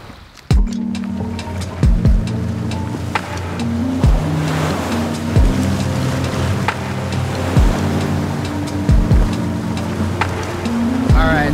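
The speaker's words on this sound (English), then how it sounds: "so the boat is slowing down" Boat engine rumbling steadily with wind and water noise, punctuated by repeated thumps as the hull slaps waves, the motor tone easing as the boat slows down.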